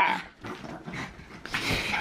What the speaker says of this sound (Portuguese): Que cachorra maluca!